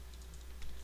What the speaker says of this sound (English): I'm just going to type this over here.